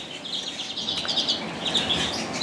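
Lesser redpolls give short, high twittering calls in quick scattered bursts, faint and fairly close, over a soft background hiss.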